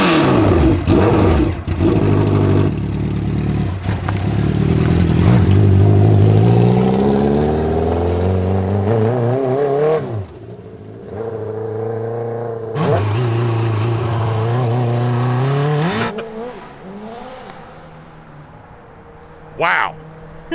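A Honda N600 micro car fitted with a CBR1000RR superbike engine pulls away, its high-revving engine climbing loudly through several gears and fading into the distance while people talk and laugh nearby.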